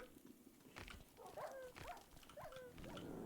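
Synthetic dog barks and yelps in short bursts over a busy Minecraft-like game background, fairly close and moderately loud.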